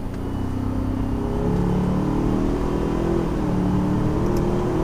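A 2019 Ford Ranger's turbocharged four-cylinder accelerates in sport mode in third gear, a steady engine drone heard from inside the cab with the pitch climbing gradually over several seconds.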